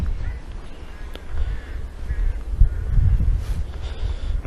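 A crow cawing a few times at a distance over a steady low outdoor background rumble, with the louder calls bunched toward the end.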